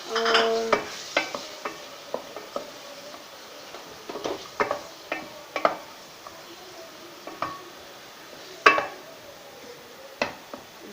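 A spoon mashes and stirs tomatoes in a pan of potato-onion curry, giving irregular scrapes and taps against the metal over a faint sizzle.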